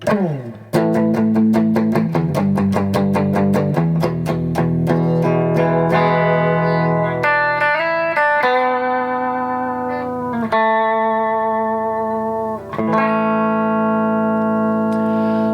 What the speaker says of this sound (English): you get some nice bite